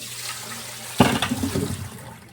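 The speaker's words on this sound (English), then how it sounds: "I'm going to pour off the water." Water poured off boiled potatoes for canning rushes out in a sudden splashing gush, close and fairly loud, tapering over about a second.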